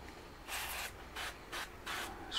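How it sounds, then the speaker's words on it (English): Several short hissing sprays of duck fat onto a spatchcocked chicken being prepared for a charcoal gravity-fed grill, coming in quick separate bursts, close and fairly quiet, with no talking. "Spray it down some with some duck fat."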